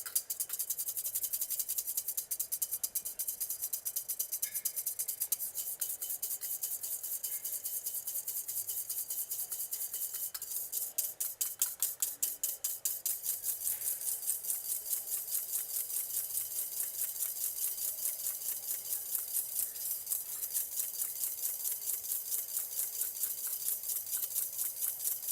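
Hand whisking in a bowl set on a bed of ice during a pastry master class, a steady rapid scraping rhythm that runs close and continuous, speeding into a fast regular beat partway through, with no voices.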